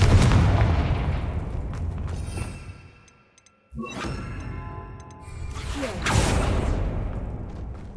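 A Confringo blasting spell goes off in Hogwarts Legacy: a heavy boom with a whooshing rush, followed by a brief silence and then further rumbling blasts, with a voice heard briefly.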